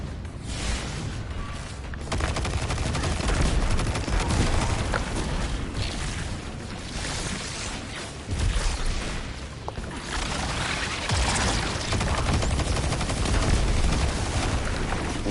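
A Strand machine gun in Destiny 2 firing in dense rapid bursts amid a busy mix of gunfire and booms, continuous and fairly loud throughout, with no speech.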